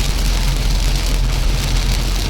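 Heavy rain pours down steadily in Udon Thani, Thailand, a dense, even hiss of drops hitting a surface with no pauses.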